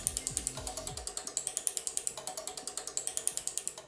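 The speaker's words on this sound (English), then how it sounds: "Clicks are satisfying, so I changed it to 100 milliseconds and sped it up." An electric fireworks ignition sequencer clicks at a fast, steady rate of about ten relay clicks per second, sharp and close, continuing evenly throughout with a faint whirring underneath.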